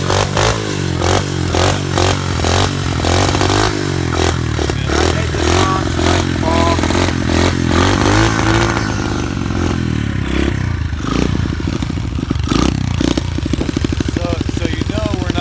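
Small SSR 125 pit bike engine running and revving, a loud continuous buzzing drone with repeated throttle blips and rising revs, clattering mechanical noise mixed in, and people talking over it.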